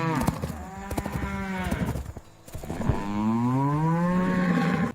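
Cattle moo repeatedly on a ranch, long deep lowing calls up close, with a few clip-clop hoof sounds and farm ambience between them on a bright, breezy morning.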